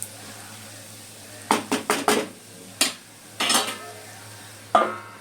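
A lid set onto a cooking pot of simmering mango onion curry, heard as a series of close metallic clanks and taps in quick bursts, then a final clink, over a low steady background hum.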